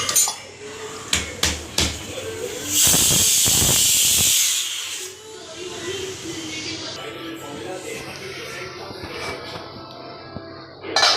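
A pressure cooker on a home kitchen stove lets out a loud, sustained hiss of steam for a couple of seconds, framed by clattering pots and utensils and quieter kitchen noise.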